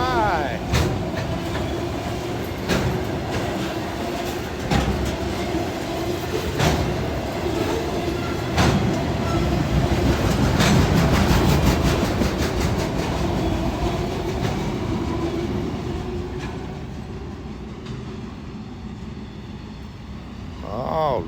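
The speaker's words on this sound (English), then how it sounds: "2 Norfolk Southern trains." A long Norfolk Southern freight train passes close by, a sustained rumble of railcars with repeated sharp wheel clanks and clicks, swelling and then fading toward the end; a voice is faintly heard in the background.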